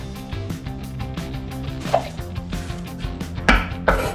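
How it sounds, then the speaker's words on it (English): A knife works through meat on a cutting board in a home kitchen, giving a series of soft, irregular chops and taps, a few sharper knocks standing out near and moderately loud over a low background hum. "we're just gonna cut up the rest of this meat"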